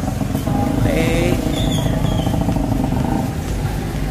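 A habal-habal motorcycle taxi on the way to Paseo del Mar rumbles along with a steady, close engine drone, wind and road noise, and faint clattering as it rides.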